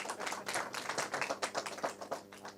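A handful of audience members clapping at a Hindi poetry gathering, sparse separate claps in an uneven rhythm, close and moderately loud, with no talk over them.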